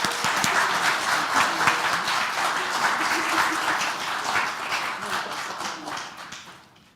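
Congregation applause in a church after a sermon, a dense steady wash of many hands clapping at close range that holds for several seconds and then fades out near the end.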